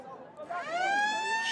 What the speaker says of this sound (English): have wrapped it up as the full-time siren goes here at the Griffons Stadium